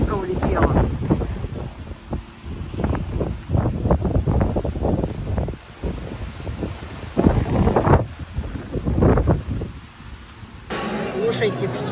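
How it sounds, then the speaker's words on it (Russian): Strong wind buffeting the microphone at a Red Sea beach in Sharm el Sheikh, Egypt, loud and gusty throughout, with someone talking over it and a brief surf-like wash near the end. "смотри, какой ветер. Пальму вообще сдувает."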